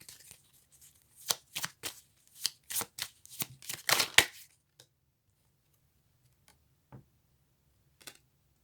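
Cards shuffled and drawn during a card reading: a quick run of crisp, close riffling snaps and flicks, followed by a few faint isolated taps in near silence.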